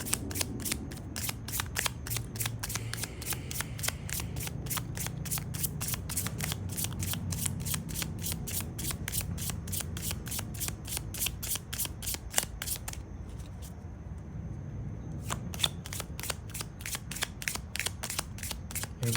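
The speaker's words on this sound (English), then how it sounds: "I'm going to pull Love Oracle cards for you." Love oracle cards are shuffled and riffled in a steady run of crisp, rapid flicks, with a short pause partway through before the riffling starts up again, all close to the mic over a soft low background hum.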